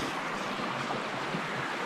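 Manistee River runs through a wooded valley with a steady, broad rushing wash of flowing water, even and unbroken at a moderate distance, with no voices.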